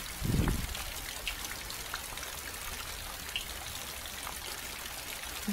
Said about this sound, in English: And now the water is flowing down the solid pipe.